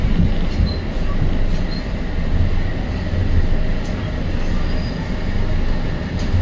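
Passenger train rolling steadily along the track, a continuous low rumble with rail noise filling the whole stretch, with no clear speech over it.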